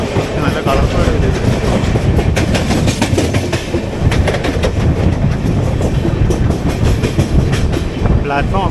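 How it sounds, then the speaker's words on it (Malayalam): An accident relief train rolls past on the railway near Borivali, Mumbai, its wagons giving a steady, loud clickety-clack of wheels over rail joints that continues throughout without a break. "ആക്സിഡൻ്റ് റിലീഫ് ട്രെയിനാണ്."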